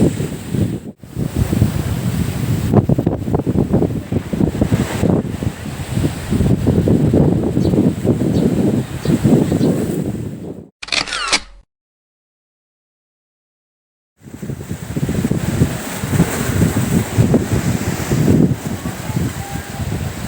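Strong surf crashes steadily at a beach in stormy, typhoon wind, a loud continuous roar of waves and gusting wind buffeting the microphone, with a few seconds of silence midway before the pounding resumes.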